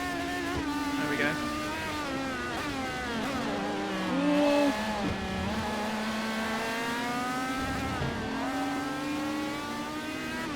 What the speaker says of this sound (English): I like how this car actually drives around this track.